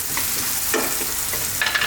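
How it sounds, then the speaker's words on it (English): Eggplant sizzles and fries in a hot pan while being stirred, with steady frying hiss and a few scraping stirs near the mic, no talking. "let's throw these around in the pan for about 4 to 5 minutes, stirring often"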